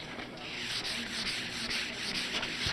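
A wooden body of a 1964 ES-335-style guitar is sanded by hand with 320-grit sandpaper in a workshop, giving close, continuous rhythmic rubbing strokes with a soft hiss, and no talking.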